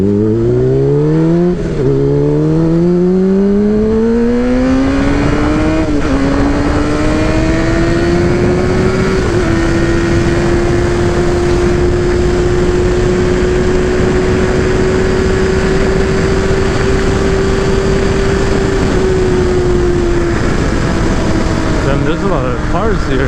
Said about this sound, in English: every little chance I get to ride the motorcycle